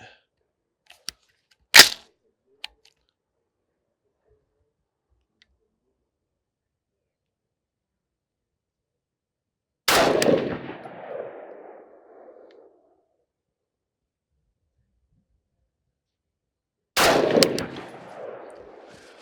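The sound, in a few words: gunshots from an SPR rifle at the range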